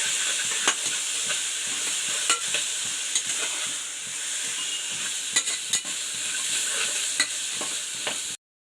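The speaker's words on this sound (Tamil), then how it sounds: "எல்லாத்தையும் சேர்த்து நல்லா கிளறி விட்டுக்கோங்க." Vegetables with turmeric and salt stirred and frying in a pan: a steady close sizzle with repeated sharp scraping clicks from the spoon throughout, ending abruptly.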